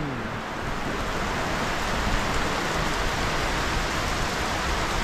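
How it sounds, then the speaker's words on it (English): Rain pouring down in a village, a steady, dense hiss of drops striking surfaces that holds at an even, moderately loud level throughout, with no voices over it. "we made it back just in time before the rain hit"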